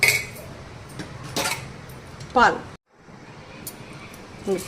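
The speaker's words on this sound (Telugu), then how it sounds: "ఇట్లా కలిపినాక ఇప్పుడు మనం స్పూన్తో కలుపుకోవచ్చు." A spoon mixing curd rice in a dish, with a few close metallic clinks and soft scraping against the bowl, a voice talking over it.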